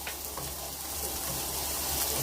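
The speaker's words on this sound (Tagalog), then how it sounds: "Igisa muna natin para para absorb yung panglasa ba." Onion, garlic and achar sauté in a hot pan, a steady close sizzle with soft stirring scrapes and no talk.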